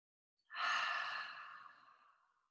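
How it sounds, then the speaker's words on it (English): One long, soft, deep exhale during a meditation at a spiritual service, rising quickly and fading slowly over about two seconds, close and alone with no talk. "Breathing deeply."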